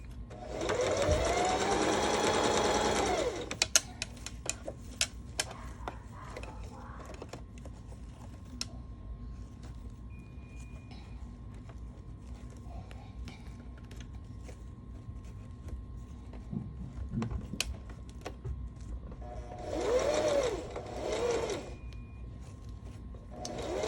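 A sewing machine stitches an invisible zipper onto sequin fabric in two loud, steady whirring runs, one at the start and one near the end, separated by a long quiet stretch of small clicks and handling noises.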